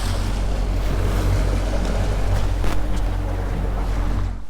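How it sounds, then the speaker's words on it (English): Boat motoring across open water while out fishing, a constant loud engine drone mixed with rushing water and wind buffeting the microphone, easing off at the very end. "Well, we're just motoring"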